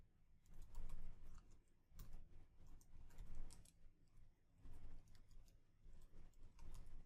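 Quick, irregular clicking of a computer keyboard as a command is typed, in bursts of keystrokes with brief pauses, fairly close and moderately quiet with no talk.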